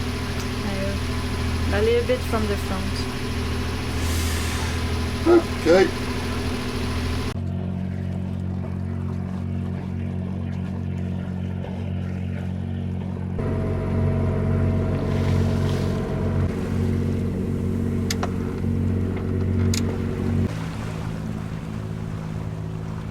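A sailboat's engine running on a windless morning, a steady low droning hum heard throughout, with water sounds and people talking briefly over it.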